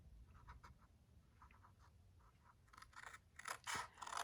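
Scissors cut paper for a treat box, snipping in short quiet strokes up close, then a quicker run of louder cuts near the end.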